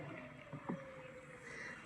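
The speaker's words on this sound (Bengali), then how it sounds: "কিভাবে নৌকা বায়।" A boat being rowed across a village wetland, with a faint splash or knock of the oar around the middle over a steady, quiet outdoor hum.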